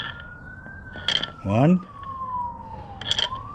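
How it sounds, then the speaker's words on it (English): A fire truck siren wails steadily through the clip, gliding slowly in pitch, with someone speaking briefly over it and a few clicks nearby. "It's got to be fire trucks with horns and everything."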